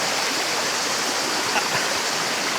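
A river rushes through Rugova Canyon in Kosovo, a loud, steady broadband roar of flowing water, continuous and close with no voices.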